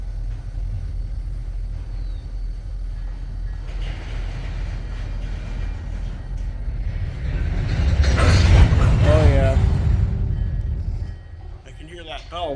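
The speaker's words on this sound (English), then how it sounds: "Sounds like he's releasing the brakes" A freight train idling on the Flint main near Durand releases its brakes: a low rumble builds into a loud rushing hiss of air that swells and then fades, with a person talking at times.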